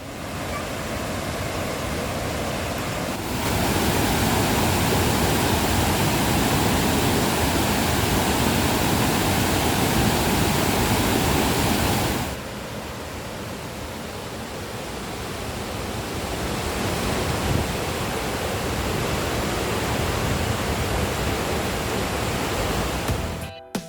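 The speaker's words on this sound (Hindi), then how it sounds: "यहाँ का प्रमुख आकर्षण सीताकुंड झरना, जहाँ नहाने के लिए लोगों की भीड़ लगी रहती है" Loud, constant roar of Sita Kund waterfall near Sasaram, Bihar, crashing down, dense and unbroken, swelling slightly louder for a stretch before settling back.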